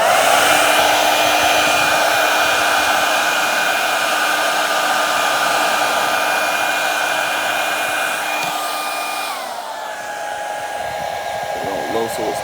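A hair dryer blows steadily and loudly up close while heating a phone screen to reattach it, a continuous whooshing hum whose motor pitch drops near the end as it is switched to a lower setting.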